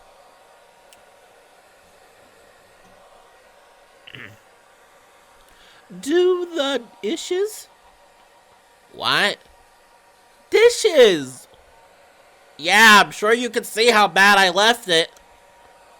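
Behind a bathroom door, a hair dryer runs as a steady, muffled hum throughout, while people exchange short shouted lines over it.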